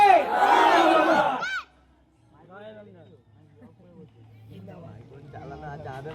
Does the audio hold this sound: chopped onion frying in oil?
no